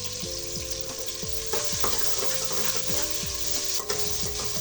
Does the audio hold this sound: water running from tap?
no